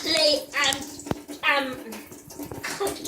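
Water rushes freely through a drain pipe that has just been unblocked after a partial blockage, a loud splashing flow that swells and fades in bursts, with voices in between.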